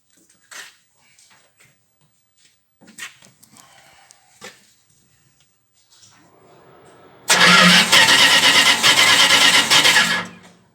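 A 318 Chrysler engine in a Bombardier cranks hard with trouble starting, a loud, dense starter-and-engine roar running about three seconds before cutting off, preceded by scattered faint clicks and handling noises.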